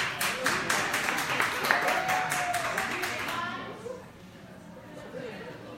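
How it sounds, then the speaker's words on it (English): Audience clapping at a cycling team launch event in a bike shop, dense and fairly close for about three seconds, then fading to murmuring chatter and crowd voices. "when they start clapping ahead of time"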